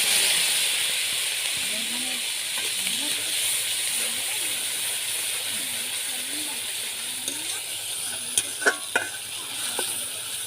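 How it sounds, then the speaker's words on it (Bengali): Paste of onion, green chili and dried chili hitting hot soybean oil with fried black cumin, giving a steady close sizzle and hiss that runs through the whole stretch beneath a voice talking, with a few sharp spatters near the end. "এখন পেঁয়াজ বাটা মানে পেঁয়াজ, কাঁচামরিচ, শুকনো মরিচ বাটাটা দিয়ে দেব।"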